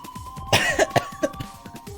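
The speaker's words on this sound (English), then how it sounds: "she's coughing so hard she can't even talk" A woman in a video game coughs hard several times in rapid, uneven bursts, close and loud, followed by a weaker cough.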